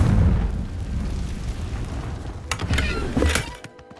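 A Confringo blasting spell is cast in Hogwarts Legacy inside a dusty, cobwebbed room: a loud rumbling burst that settles into crackling debris, followed by a few sharp popping cracks before it fades out.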